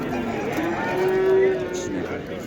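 A cow at a livestock market in Oltinko'l district, Andijan, gives a single drawn-out low moo, close and fairly loud, over faint background murmur.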